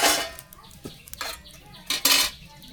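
Silver carp pieces go into a pot with mustard in a village kitchen: metal spoon scrapes and clatters against the pot in a few short, bright bursts, close and fairly loud.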